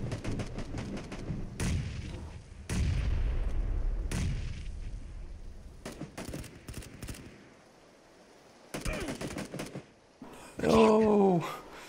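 A frag grenade detonates during a PlayerUnknown's Battlegrounds match among several deep booms and gunshot cracks at mid distance, with quieter gaps between them, and a short burst of voices near the end.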